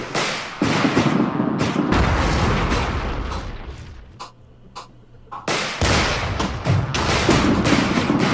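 Cannons firing in a video game, a rapid barrage of loud booming blasts and heavy thuds, a short lull with a few isolated shots, then the volley resumes, close and dense.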